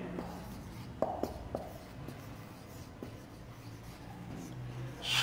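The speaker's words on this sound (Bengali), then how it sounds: "দেখো, আমি এখানে একটু লিখি" Chalk or marker writing on a board during a business organisation class, a run of quiet scratchy strokes with short taps and rubs in a hushed room.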